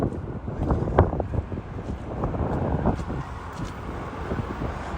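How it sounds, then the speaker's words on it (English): Strong wind gusting across a microphone on an outdoor walk through historic St. Petersburg, a steady low rumble with buffeting swells throughout, loud and close with no voices. "it's windy"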